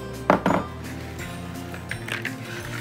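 Salad greens and chard are tossed with vinaigrette in a bowl, giving a couple of close clinks and knocks early on, then quieter handling against steady background noise.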